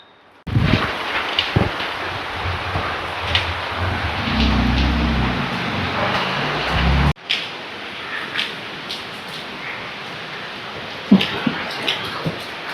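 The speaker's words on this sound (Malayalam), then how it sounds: "നല്ല മഴയും നല്ല കാറ്റും." Heavy rain and strong wind roar in a dense, steady wash that cuts off abruptly partway through, leaving quieter outdoor noise with scattered knocks and taps.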